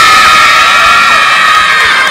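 Children cheering and shouting loudly together in a dense, sustained crowd roar with high-pitched voices, close and continuous, clapping blended underneath.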